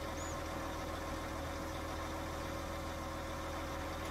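A tractor engine idles steadily in a farming video game with Bourgault equipment, a low, even mechanical drone that holds constant and fairly quiet throughout with no other sounds over it.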